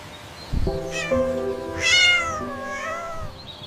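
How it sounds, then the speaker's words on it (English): A feral cat gives one long, drawn-out meow with a rising and falling pitch, preceded by a brief thump. The call is close and loud against quiet background noise. "Feral cat."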